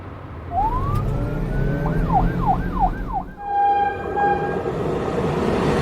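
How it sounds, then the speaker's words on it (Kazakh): A cartoon police car's siren wails in a rising-and-falling sweep, then shifts to a steady high tone; loud and close, with vehicle rumble underneath and no speech. "Полиция көлігі. police car"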